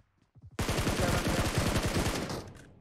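PUBG Mobile gunfire on Yasnaya's sandy area: a few single shots, then a long, loud, rapid automatic burst of evenly spaced rounds lasting about two seconds, close and dominant, trailing off at the end.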